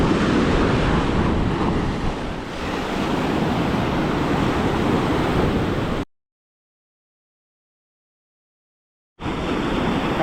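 Rough ocean surf at Venice Beach, Florida, roars as a steady, loud wash of breaking waves with heavy wind buffeting the microphone, cutting to a few seconds of total silence before the surf noise resumes.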